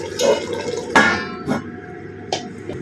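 About half a cup of water splashes into a hot cooking pan with fish head and greens, a few short close sloshes and drips against a low background hiss, no voices.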